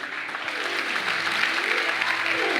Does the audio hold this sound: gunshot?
no